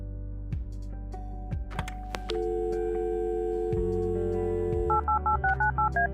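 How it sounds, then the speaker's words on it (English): A room telephone in the video game Kathy Rain being dialed: a dial tone holds steady while crisp electronic keypad tones beep in a quick run of short separate presses, close and clear with no talk. "Our room phone. It's got an external line."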